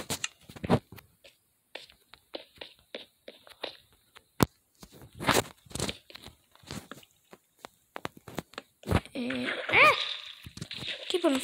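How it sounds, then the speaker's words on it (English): Near the end, a broad, loud splash comes from a character falling into water in a video game, following scattered soft thuds and steps. "Keep on falling in that water."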